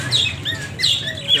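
A newly paired couple of Fisher's lovebirds in a cage chirps close by, with bright, repeated tweets and short calls overlapping in quick bursts for about a second and a half, and no talk.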